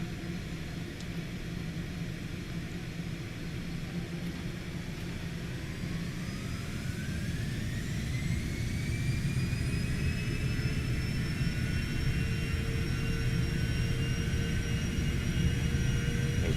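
The jet engines of a Cessna Citation X spool up during the takeoff roll, a loud continuous roar and rumble with a whine rising in pitch that settles into a steady high tone.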